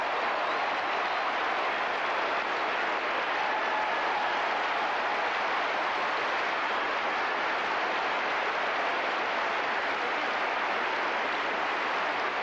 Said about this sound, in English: The entire stadium on their feet, applauding these great champions.